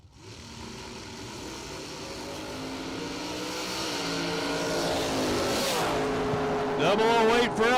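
A dragster tears down the drag strip at a wheelie-contest race event, engine roaring loud and building steadily as it accelerates, climbing to a screaming peak near the end, with a commentator's voice over it.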